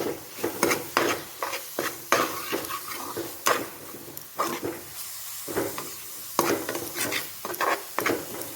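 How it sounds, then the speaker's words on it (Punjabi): Finely chopped coriander is stirred into raw mango chutney in a pan, with a spoon scraping and knocking in repeated uneven strokes and a faint sizzle beneath. "ਹੁਣ ਇਸ ਵਿੱਚ ਬਰੀਕ ਕੱਟਿਆ ਹੋਇਆ ਧਨੀਆ ਐਡ ਕਰਾਂਗੇ ਚੰਗੀ ਤਰ੍ਹਾਂ ਮਿਕਸ ਕਰਾਂਗੇ"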